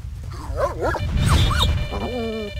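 Dogs in the video game S.T.A.L.K.E.R.: Shadow of Chernobyl bark and yip several times in quick succession, close and fairly loud, ending in a whining whimper.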